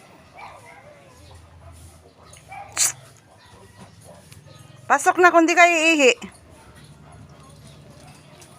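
Pet dogs at home in the morning, letting out a brief yip and then a loud, close burst of whimpering, whining yelps lasting about a second, while someone talks over a quiet background.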